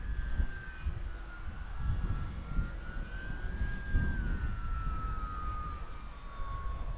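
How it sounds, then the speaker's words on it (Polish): A 3dLabPrint RC model A6M2 Zero flies overhead in wind, its thin engine whine rising and falling in pitch as it passes, steady and moderately distant under heavy wind rumble. "Coś tam ten samolot potrafi powywijać."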